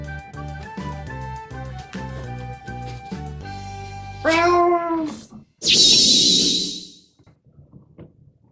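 Cat meowing near a self-cleaning automatic litter box, several loud meows toward the middle and end, with sharp tonal cries and a bright high-pitched squeal, after a rhythmic mechanical or musical opening.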